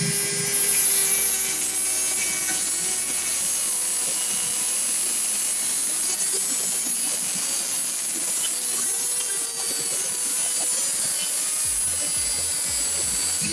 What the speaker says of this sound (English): Dremel going back on.